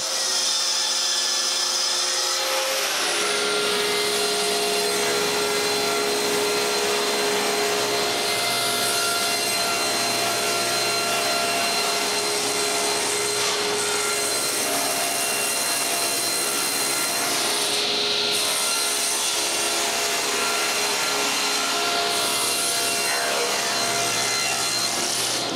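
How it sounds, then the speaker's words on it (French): A power saw rips through melamine panels being cut to size for a kitchen cabinet, a loud continuous buzzing cut that runs the whole stretch with no speech over it. "La première chose à faire, c'est de couper tous les morceaux à la grosseur de mon plan."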